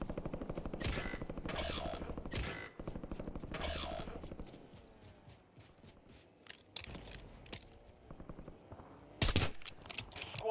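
Gunfire crackles in a Call of Duty Black Ops 6 Warzone match, rapid automatic bursts and scattered shots, some near and some distant, amid footsteps and game effects, with no clear talk.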